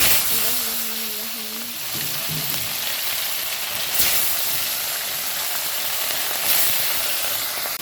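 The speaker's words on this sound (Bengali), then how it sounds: "এখন আমি মাছগুলো ভেজে নিচ্ছি" Fish frying in oil in a wok, a steady broadband sizzle and hiss running the whole time with a brief low hum near the start and two louder spitting bursts.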